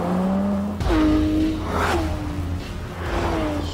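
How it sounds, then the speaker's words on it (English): A Porsche 911 GT3 RS with a naturally aspirated 4-litre flat-six revs hard, its pitch climbing in a couple of sharp rising sweeps with whooshing passes, loud and close with no talking. "the engine is incredible. There's no turbocharging, it's just a 4-litre flat six"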